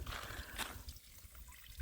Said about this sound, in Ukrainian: Тут якась вода бежить.